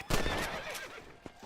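A horse in the video game Red Dead Redemption gives one loud, close whinny, its shrill call wavering then fading, with a faint hoof clop afterward.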